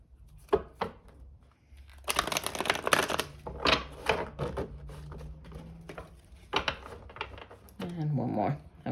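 Tarot cards being shuffled by hand at a reading table, a run of quick papery riffling and tapping bursts, close and moderately loud, with brief pauses between shuffles and a voice speaking near the end.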